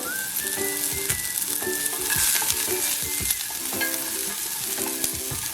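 Thick-cut carrot pieces frying in half a spoon of oil in a pan, a steady close sizzle with repeated scraping and clinking as a spoon stirs them, no talking.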